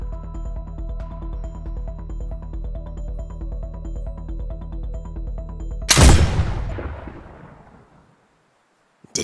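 A steady rhythmic electronic game loop in Fortnite, ending in one loud sharp gunshot-like blast that decays over a couple of seconds into silence.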